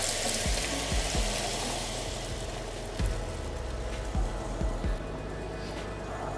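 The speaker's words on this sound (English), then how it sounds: "we're just going to pour that straight over our chocolate" Hot melted butter is poured from a jug over chocolate for brownies, a close bubbling, pattering stream with several soft plops and splats scattered through.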